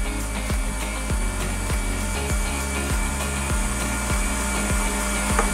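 An electric hand mixer whips egg whites with sugar and cream of tartar into meringue for a chocolate cake, a steady motor whir running throughout with regular rhythmic knocks of the beaters against the bowl.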